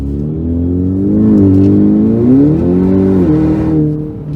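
A Ford Mustang EcoBoost accelerating hard, a loud close engine roar climbing through the revs, easing and surging again before it fades toward the end, with no talk.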